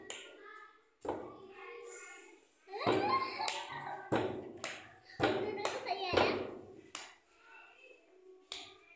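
Hand claps in a children's counting game played with chalk and toffees, sharp claps coming in irregular bursts, close by, mixed with children's voices talking between them.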